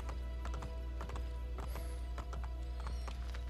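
Horse hooves clip-clop in the Assassin's Creed Brotherhood video game, a quick, steady run of close hoof beats over a dense game soundtrack, with a brief whinny-like tone partway through.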